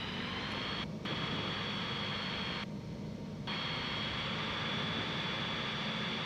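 A Skyranger microlight aircraft's engine drones steadily on final approach, a continuous loud hum heard from inside the cockpit, with two brief dips in the higher tones.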